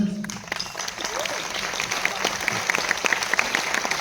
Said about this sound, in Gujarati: જોરદાર તાળીઓથી સ્વાગત કરીએ મિલન